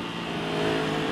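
A 2021 Aprilia motorcycle, an RS 660 or Tuono V4 1100 Factory, pulls away under acceleration on a test ride, its engine droning steadily and loud throughout with a rising, rough mechanical tone and no talking.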